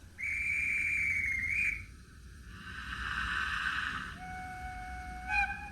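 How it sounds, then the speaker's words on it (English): A shrill pea-style guard's whistle blows for over a second, then a sound-fitted Rapido model E1 0-6-0 tank engine answers with two longer, lower whistle tones, loud and close. "F5 is the guard's whistle with answer from the engine."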